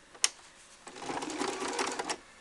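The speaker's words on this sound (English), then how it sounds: "You push your seam to one side, and then you top stitch" A sewing machine top stitches a mock flat felled seam with one quiet, steady run of fast stitching lasting about a second, after a faint click.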